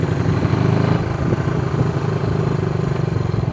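A 1970s-era Honda CB360, a $125 vintage bike, runs steadily while being ridden, its engine a continuous mid-pitched drone with a slight surge near the start.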